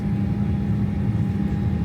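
Steady, loud, low roar and hum inside the cabin of a Boeing 737 airliner operated by Transavia, constant and unchanging throughout with no speech.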